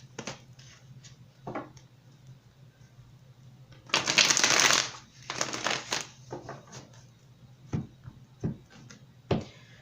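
Tarot cards shuffled by hand at close range: a loud riffling burst followed by several shorter rustling shuffles and light card taps on a table.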